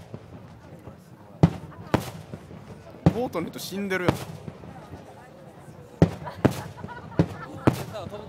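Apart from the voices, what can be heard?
low fireworks at the Lake Suwa fireworks festival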